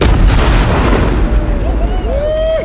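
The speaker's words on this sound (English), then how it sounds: "We did some tests on the explosion last night." A large test explosion booms loudly, followed by rumbling debris and a rising, whistling tone as it dies away.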